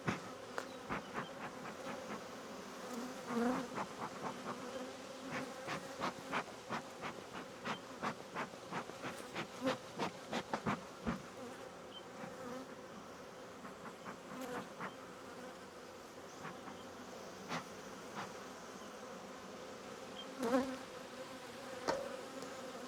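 Honey bees swarm close around a beekeeper's face during a full hive inspection of a queenless colony, a dense continuous buzz with individual bees zipping past near the microphone.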